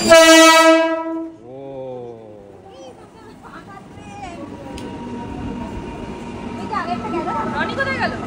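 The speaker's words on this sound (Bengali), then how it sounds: "আমরা স্টেশনে পৌঁছে গেছি, ট্রেনও ঢুকে গেছে।" A train pulls into a station with a loud horn blast at the start, then rumbling wheels and a rising mechanical whine as it slows, amid a busy platform with voices in the background.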